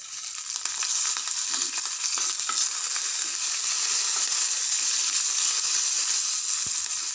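Freshly grated coconut sizzles steadily in hot coconut oil, a continuous bright crackle with light stirring scrapes, close and even throughout with no talking.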